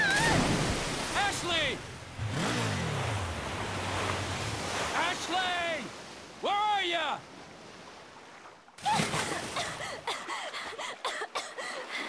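Water sloshing and washing like surf after the character drops into the water in Resident Evil 4, loud and steady across the clip, with a brief break near the end before the watery noise returns.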